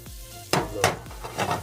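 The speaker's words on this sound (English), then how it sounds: "Flip the pan." Breakfast potato hash tossed in a pan with a flip of the wrist: a few loud whooshing, scraping tosses and clatters spaced about every half second over a soft sizzle, close up and without speech.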